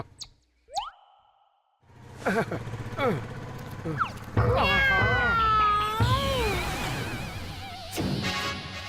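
A cartoon cat meowing as it follows the characters in a Motu Patlu episode, several drawn-out, wavering meows and a few yowls, fairly close, with other animated sounds around them.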